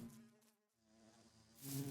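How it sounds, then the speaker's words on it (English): Buzzing bees in Minecraft with the Create mod, a steady insect drone with harmonic bands that dips briefly and swells louder near the end, heard alone without talk. "And the carpenter bee. These bees are cool."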